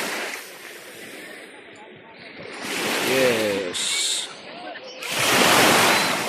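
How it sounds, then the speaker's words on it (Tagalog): Strong ocean waves surge and wash in heavy bursts at high tide on a beach in Lobo, Batangas, with a gusty rush of wind and people talking over the surf. "Malakas yung alon."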